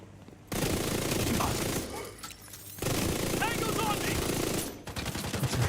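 Sustained automatic gunfire bursts from The Division shooter game, a dense rattling fusillade that pauses briefly then resumes, loud and continuous, with speech faintly mixed beneath.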